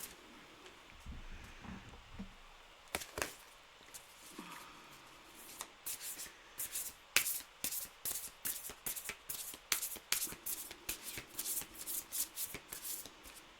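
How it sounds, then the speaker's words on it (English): Tarot cards being shuffled by hand at close range, a run of crisp riffling snaps and soft rubbing that quickens into a steady, rhythmic flutter of card edges. "that was my bad shuffling"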